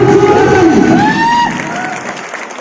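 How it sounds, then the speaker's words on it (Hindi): A large crowd at a business meeting cheers, whoops and claps loudly for a speaker, with high shouts rising above the dense applause before it gradually fades. "मिस्टर कमल नारायण साहू सर के लिए जोरदार ताली चाहूंगा।"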